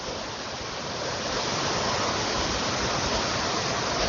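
Steady, dense rushing of a waterfall at Sarmool, the source of the Saryu river in Uttarakhand, heard close and continuous with no voices.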